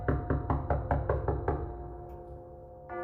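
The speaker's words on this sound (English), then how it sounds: "there came a knocking at the street door" A series of about seven evenly spaced knocks on a street door at night, firm and close, with a hum underneath before a brief sound at the end.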